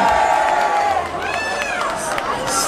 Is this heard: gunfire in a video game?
no